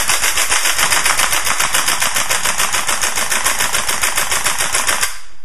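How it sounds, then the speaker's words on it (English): A WE M14 gas blowback airsoft rifle fires a long, rapid, loud stream of sharp mechanical clacks at a steady rate for about five seconds, then stops abruptly. "it still replicates an actual M14's rate of fire"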